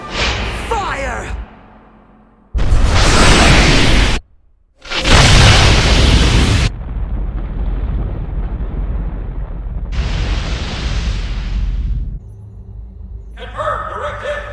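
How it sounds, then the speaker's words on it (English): Anime spaceship main cannons fire in huge roaring bursts with whooshing blasts, followed by a long rumbling explosion, loud and cinematic with silent gaps between bursts. "Charging complete. Main cannons are at the ready. Fire!"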